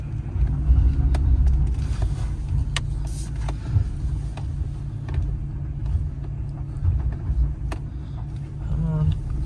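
Four-wheel-drive pickup with bald tires idling and rumbling as it creeps up onto a trailer, a steady low engine drone with brief mechanical clicks, and a voice talking over it.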